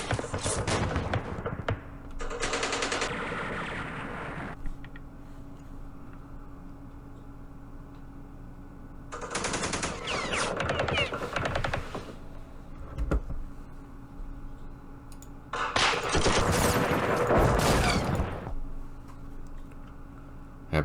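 Rifle fire in a Middle East war game comes in three separate bursts of rapid, sharp crackling shots, with quieter stretches of low background hum between them.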